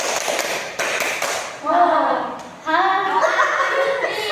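Students in a counseling group session clap together, a brief sharp burst of hands, amid chuckling, laughter and children's voices.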